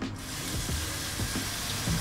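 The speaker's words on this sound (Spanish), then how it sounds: "Vamos a enjuagarlo bien abajo del chorro de la canilla." Salted cucumbers rinsed under a running kitchen tap, a steady close water rush with a few soft knocks and splashes, no voices.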